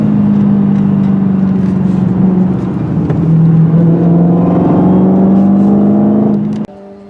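A 2017 Dodge SRT Hellcat engine drones loud and close from inside the cabin, its pitch rising and dipping as the throttle changes, then cutting to a lower idle near the end.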